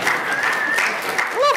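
Audience applause at a conference talk about meeting in person, a steady spread of clapping throughout, with a voice rising near the end.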